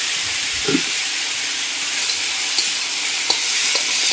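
Country chicken with skin sizzles and hisses steadily in a pan of roasted ground masala as it is stirred, with a few soft scraping knocks from the spoon over the constant frying.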